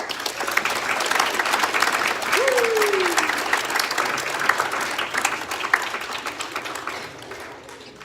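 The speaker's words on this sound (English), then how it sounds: "Let's all give our new members a round of applause." A church congregation applauds new members with sustained, dense clapping throughout, fading slightly toward the end, with a brief voice or whistle-like sweep rising over the crowd near the middle.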